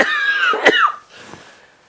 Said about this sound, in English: cough all over your face.